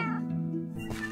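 A cat meows in the video game Minecraft, a single close, clear wavering meow that rises and falls, with a short tonal game sound trailing after it.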